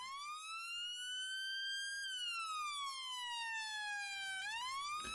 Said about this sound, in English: Now as you can see we have a stock police siren.